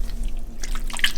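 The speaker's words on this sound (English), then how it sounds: "So now we're about to rinse it off and then put fresh water" Soaked sea moss is rinsed with fresh water, giving brief close drips and light splashing over a low steady hum.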